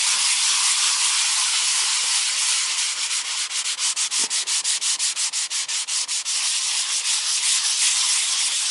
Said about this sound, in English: You just have to pat over this once gently. Again, this is same sandpaper